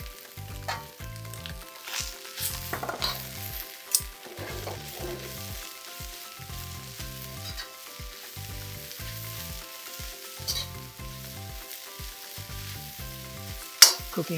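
Red onions and sliced leeks sizzling and frying in a pan for kottu roti, a steady crackle broken by regular clattering strokes of stirring, close and moderately loud.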